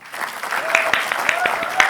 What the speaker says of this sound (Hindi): तो उर्फी के लिए एक जोरदार तालियां बजाएंगे